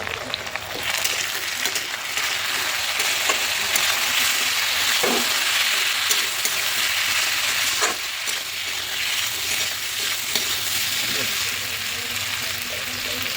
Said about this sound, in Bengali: ডিমটা কিন্তু কষাচ্ছি, দেখতেই পেলে তোমরা, ডিমে কিন্তু মশলা দিয়ে আর কষাচ্ছি।